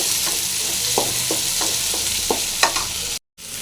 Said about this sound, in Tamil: தக்காளி போட்டுடலாம் நல்லா ஃப்ரை ஆகணும்